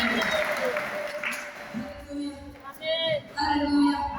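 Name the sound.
congregation applause at worship service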